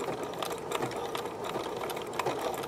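A sewing machine stitches over cord to make trim, running in a steady, close, even whir with faint mechanical ticks throughout and no talking.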